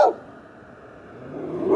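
A dog barking nearby, one sharp bark at the start and another rising bark at the end, separated by a quiet pause.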